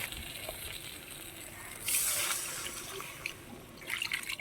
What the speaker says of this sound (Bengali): এখানে আবার ভাজা হয়ে এখন জল দিয়েছি